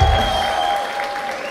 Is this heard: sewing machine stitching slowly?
no